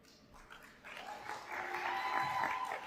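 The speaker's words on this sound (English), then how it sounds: "Let's give our graduates one final round of applause as they exit our" Applause for graduating fifth graders leaving the building at a school graduation ceremony in Sharjah rises from faint scattered clapping to a fuller, moderately distant ovation, with crowd murmur underneath.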